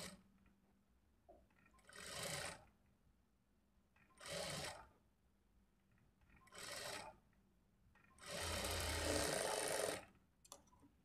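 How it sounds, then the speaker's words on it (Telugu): A sewing machine stitching a lining blouse runs in four separate whirring bursts, each about a second or two long, with the last one longest, close and clear with quiet pauses between. "ఫ్రంట్ పార్ట్ని లాగకుండా పట్టుకొని స్టిచ్ చేసుకోవాలి"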